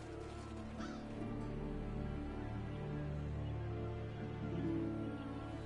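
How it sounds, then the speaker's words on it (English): Revoltures, black scavenger birds in a video game, make a steady chorus of harsh honking, cawing cries that fills the scene without a break. "Seems the black birds are the culprits. Revoltures. They're scavenger birds that enjoy large monsters' leftovers."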